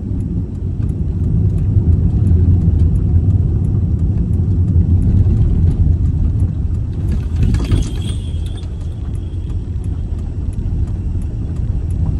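A car drives slowly and carefully along a road with some deep potholes just after passing through a long tunnel, giving a steady low rumble with faint rattles and a brief clatter midway.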